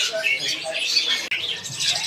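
Caged birds, including zebra doves, chirp and twitter continuously at close range, a busy layered chatter with no pauses.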